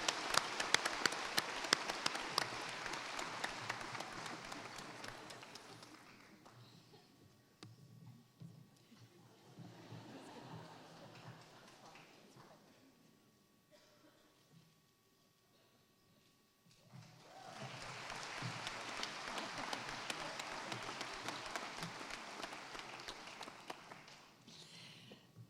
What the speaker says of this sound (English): Big round of applause for Dr. Orla Murphy.